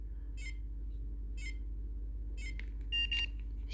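A Pandora VX3100 car alarm, remote-started from its key fob, gives several short electronic beeps spaced over a few seconds, ending in a quick cluster of chirps over a low steady engine hum.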